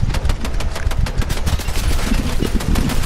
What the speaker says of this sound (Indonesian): Didi, kau tembak tak kena-kena lagi dia ni.